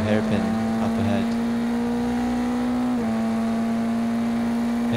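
Formula Renault Eurocup race car engine at Barcelona, heard onboard: a loud, steady high-pitched engine drone held through a corner, dipping briefly at about one second and again near three seconds as it shifts and recovers.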